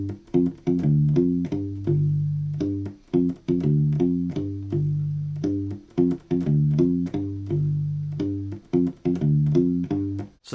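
Funk-feel blues pattern on a U-Bass, a short-scale ukulele bass, with punchy low plucked notes in a tight syncopated groove, clear and close with no other instruments.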